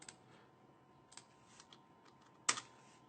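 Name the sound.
typing code on a computer keyboard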